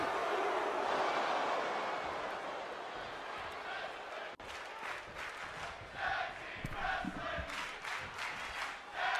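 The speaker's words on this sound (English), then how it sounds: "Nice little chant there" A wrestling show crowd chanting in unison, loud and sustained, with a commentator talking over the arena noise.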